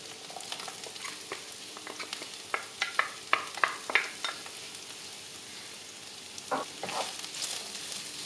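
Yellow and red peppers and onion sizzle steadily in a frying pan, with a cluster of sharp clicks and scrapes from stirring near the middle and another burst toward the end, no voices.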